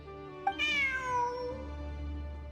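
A single drawn-out cat meow rises and then slowly falls, clear and close, with a soft click just before it and a quiet background hum after.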